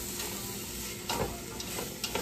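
Celery and carrots sizzling and frying in a hot pan while being stirred, a steady broadband hiss with a few brief louder bursts of stirring, close and alone with no talk.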